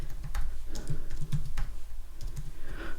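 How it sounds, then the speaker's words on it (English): Typing on a computer keyboard: a steady run of close, quick key clicks with an uneven rhythm, heard alone without talk. "So I'm just going to type that into the address."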